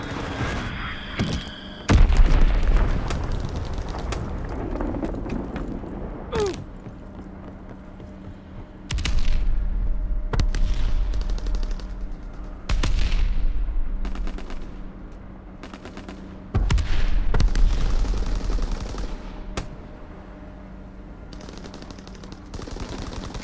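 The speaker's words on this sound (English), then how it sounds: "Enemy bomb incoming!" Heavy bombardment in the Call of Duty: WWII video game, with repeated deep booming blasts every few seconds over rattling gunfire and a low rumbling battlefield bed, loud and close.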